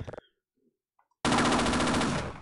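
Gunfire in Half-Life: Opposing Force: a short clipped burst, a quiet gap, then a loud sustained stream of rapid machine-gun shots lasting about a second.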